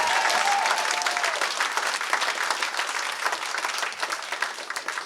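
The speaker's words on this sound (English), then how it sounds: "We can clap for Mercedes, yes!" Town hall audience applauding for a candidate's wife, Mercedes, at a New Hampshire campaign event: a dense, steady wash of clapping from a crowd, loud throughout and easing slightly toward the end, with a brief voice over it near the start.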